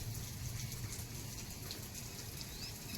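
Faint, steady rain patters continuously on a surface, with no voices or other distinct sounds.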